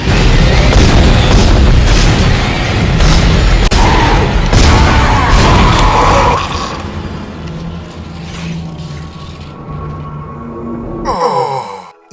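Weapon blasts and explosions from the Dead Space video game, with dense, loud booming impacts through the first half, then a quieter stretch of lower rumbling and a final sharp burst near the end.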